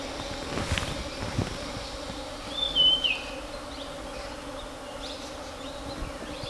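Bees buzzing around coffee blossoms on a plantation, a steady outdoor insect hum with a brief louder buzz passing close, plus faint bird chirps.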